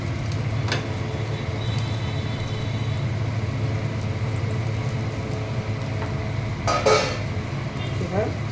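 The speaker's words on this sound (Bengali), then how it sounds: "এইবার আমি ভেন্ডিগুলো দিয়ে দিচ্ছি।" Okra being added to a hot pan for a Maharashtrian vendi dish, a steady low sizzle and hum broken by a few sharp utensil clinks and scrapes near the end.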